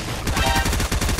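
A pump shotgun fires in Fortnite, the video game: a quick, punchy run of close, loud shots in steady rhythm lasting about a second.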